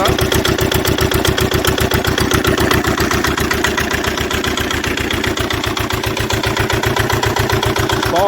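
A Lister twin diesel engine runs with no exhaust fitted, giving a loud, steady, rapid chugging beat that holds evenly throughout.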